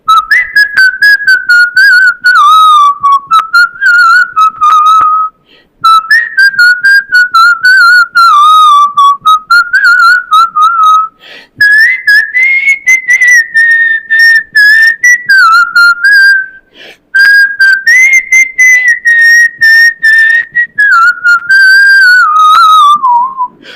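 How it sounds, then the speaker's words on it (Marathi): A person whistles a song solo, a loud, close, clear melody carried in continuous phrases with brief breaths between them. "मी शिट्टीतून गाणं म्हणून दाखवणार"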